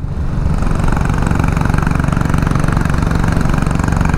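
A 7.5 HP engine running steadily at a constant rhythmic chug, loud and close, with no voices.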